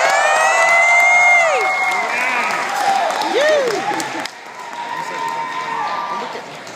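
A crowd at a Columbus local artist showcase applauds and cheers for a band, loud clapping with whoops and shouts rising over it, fading slightly as a voice speaks near the end.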